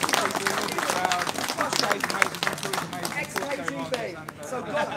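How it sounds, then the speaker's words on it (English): Audience at a boogie woogie piano livestream claps in a steady round of applause that tapers slightly toward the end, with someone talking over the clapping. "Give Olga a round of applause."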